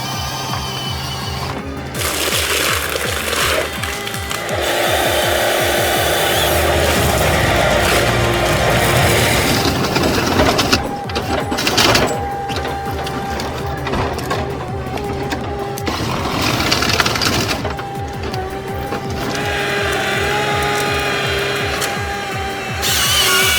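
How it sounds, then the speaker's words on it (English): A wood chipper shreds wood with loud, continuous grinding and churning, broken by sharp crunching bursts and brief surges as pieces feed through the machine. "This wood chipper might look cute, but it's got the strength of a freaking giant."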